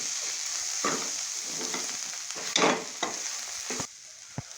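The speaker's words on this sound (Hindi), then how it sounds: "अभी हम इसमें थोम ऐड कर देंगे। उसे अच्छी तरह हिलाएंगे ताकि मिक्स हो जाए।" Garlic sizzles in hot oil in a pan while being stirred, a steady frying hiss broken by several scraping spoon strokes, close and moderately loud with no talking.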